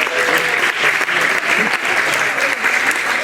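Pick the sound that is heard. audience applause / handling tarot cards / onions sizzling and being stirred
audience applause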